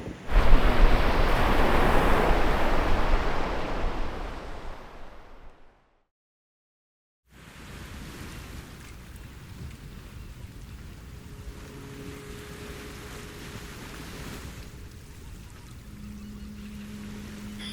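Ocean waves and surf at an island beach in Ang Thong National Park, Thailand: a loud, steady roar of breaking surf fades out, falls briefly silent, then returns as a softer continuous wash.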